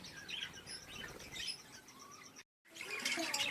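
Budgerigar parakeets in a breeding colony of about eight to ten pairs chirp and twitter continuously at moderate distance, a busy overlapping chatter with a brief drop-out midway before the chirping resumes louder.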